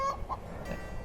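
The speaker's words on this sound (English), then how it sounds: "Hear it? That clucking?" Hens clucking on a farm, a few short faint clucks early on over a steady low outdoor background, with no talking.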